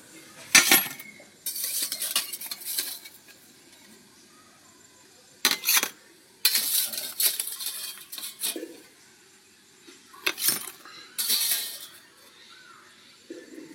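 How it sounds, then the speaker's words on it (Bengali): Bowls being lifted down and set on a surface in the kitchen, several separate bursts of ceramic and metal clatter with quiet gaps between them, close and fairly loud. "এবার আমি নামিয়ে দেব, বাটিগুলো নামিয়ে দেব।"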